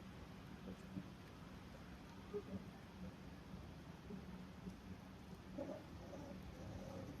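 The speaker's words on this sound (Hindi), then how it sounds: "अच्छी खासी बारिश हो रही है।" Steady, dense monsoon rain hissing throughout, heard on a train journey along the Konkan Railway, with low rumbling underneath and no voices, a continuous wash of noise at moderate level.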